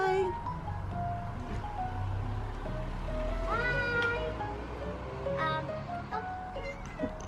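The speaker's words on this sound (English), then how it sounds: "The cat's in the back garden now." A cat meows repeatedly in a back garden, several rising and falling calls spread across the clip over low outdoor ambience, with a voice briefly present.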